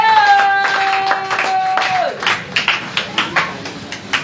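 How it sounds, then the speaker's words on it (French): A church congregation claims the word of the Lord with rhythmic clapping that swells into steady, loud beats, after a sustained held tone fades out in the opening seconds. "Acclamons plus fort encore pour la parole du Seigneur."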